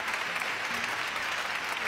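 Studio audience on a live Persian TV show breaks into steady, dense applause, loud and continuous throughout with no pauses, a broad wash of clapping filling the room.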